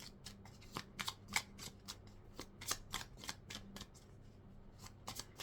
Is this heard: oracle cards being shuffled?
yes